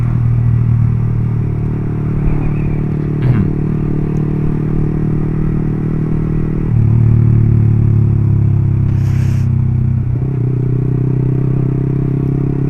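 A 2017 Yamaha R15 V3 fitted with an imitation SC Project racing exhaust, riding steadily with a loud, deep, continuous engine drone, one shift in pitch partway through, and wind rumble throughout.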